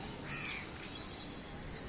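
A crow caws once or twice far off over steady outdoor hiss, faint and thin, at an open spot where many birds gather.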